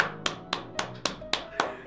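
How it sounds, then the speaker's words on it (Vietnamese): Eight evenly spaced, sharp hand claps ring out at a steady rhythm in a small room, fairly close and moderately loud, celebrating a success, with faint voices faintly underneath. "thành công rồi vỗ tay nào"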